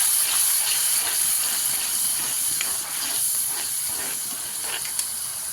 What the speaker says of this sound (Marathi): टोमॅटो आणि कांदा टाकून घेऊया लाल होईपर्यंत ह्याला भाजून घेऊया अगदी लाल होईपर्यंत अगदी स्लो गॅसवर